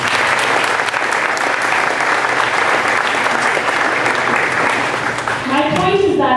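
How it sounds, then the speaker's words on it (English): An audience at a fifth-grade graduation claps steadily and densely throughout, a full wash of applause from a large crowd, with a voice starting to speak over it at the very end. "Give yourself a round of applause."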